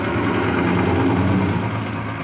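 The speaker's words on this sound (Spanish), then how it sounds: "Perdón por el ruido de los camiones" Heavy truck engines idle and rumble close by beside a roadside repair of an engine with a damaged cylinder, piston and valves, a steady loud low drone filling the whole stretch with no talk.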